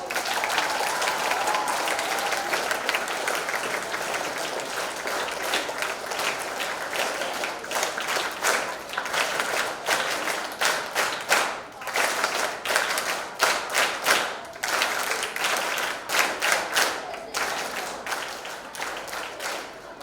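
A large school audience claps steadily for the full stretch, the dense applause thinning into distinct individual claps toward the end.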